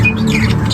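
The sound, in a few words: lovebirds squawking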